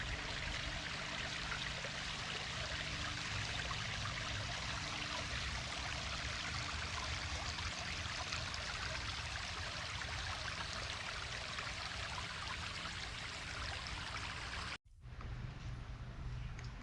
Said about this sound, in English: This nice little waterfall is a centerpiece.